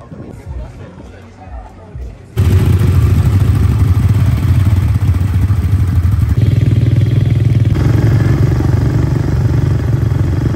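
ATV engine at a fruit farm, starting after a few seconds of quiet background chatter and then running as a loud, steady close-up drone with a rattling clatter on top for the rest of the stretch.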